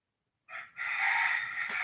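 A rooster crows in one long drawn-out call after a brief opening note, loud and close, with no voices over it.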